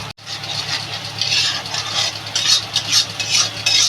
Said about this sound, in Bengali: মশলাটা বন্ধুরা ভালো করে কষাই